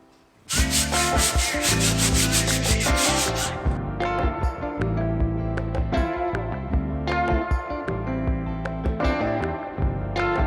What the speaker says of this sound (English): then I can sand this all down and dress the edge